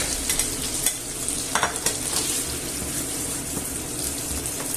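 Onion and garlic sizzle steadily in hot oil and butter in a pan, a continuous frying hiss with occasional soft stirring clicks and pops, no talking.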